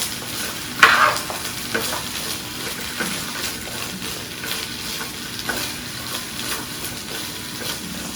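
Green beans frying in a pan while being stirred for pork chops, a steady sizzle with one sharper scrape or clatter near the start, then an even crackle that continues throughout.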